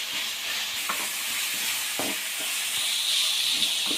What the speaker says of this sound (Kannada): ಉಪ್ಪು ಹಾಕಿದ್ಮೇಲೆ ನೀಟಾಗಿ ಮಿಕ್ಸ್ ಮಾಡಿ ಟೊಮೊಟೊ ಸಾಫ್ಟ್ ಆಗೋದು ನೀಟಾಗಿ ಹುರ್ಕೊಳ್ಳಿ